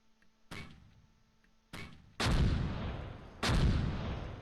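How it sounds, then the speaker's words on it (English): Mortar rounds firing and landing in the World War II strategy game Close Combat, set in Normandy near Caen: four sharp booming blasts, the last two heavy with long rumbling decay, fairly loud and close, no talk. "Much better mortars."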